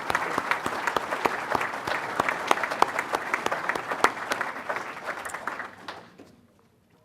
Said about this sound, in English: Please join me in a broad round of applause to recognize all PSEO students.